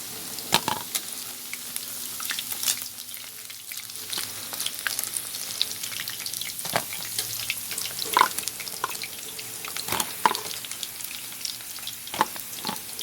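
Pork belly frying with fish sauce until golden and crisp, a dense, steady close-up sizzle and crackle with sharp pops and occasional clinks of a utensil against the pan, no voices.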